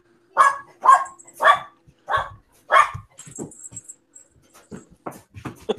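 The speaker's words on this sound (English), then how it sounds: "I've got a schnauzer. She barks a lot." A schnauzer barks sharply five times in a steady rhythm, close and loud, followed by softer yips and whimpering.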